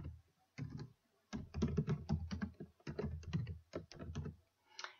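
Quick bursts of clicky keystrokes on a computer keyboard, typing text into a Word WordArt box, close and quiet with short gaps between runs of keys.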